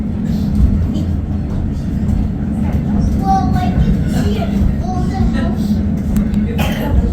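A steady low rumble of the Lookout Mountain Incline Railway car, a steep passenger railway, in motion fills the clip, with people talking faintly in the background.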